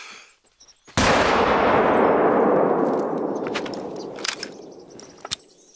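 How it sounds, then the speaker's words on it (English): A hunting rifle shot from the video game theHunter: Call of the Wild at Layton Lake: one sharp, loud report that rolls into a long, fading echo over several seconds, followed by faint shuffling sounds. "I made a rush shot there."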